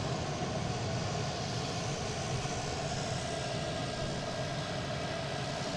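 A Delta jet takes off at Boston Logan International Airport, its engines producing a loud, continuous broadband roar that holds steady throughout without any voices.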